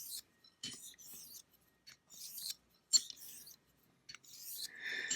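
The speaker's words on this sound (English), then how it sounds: "Audible, the sound of the blade on the stone." A knife blade scrapes across a sharpening stone in short, rasping strokes with brief pauses between them, close by and quiet, with no voices.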